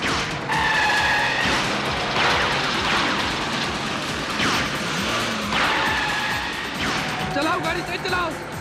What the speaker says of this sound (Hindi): चलाओ गाड़ी, तेज चलाओ।